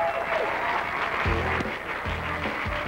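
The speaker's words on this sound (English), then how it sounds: "Give him a round of applause if he does so." A studio audience applauds during a late-1980s television show, a brief, steady patter of clapping with a few faint tonal sounds mixed underneath.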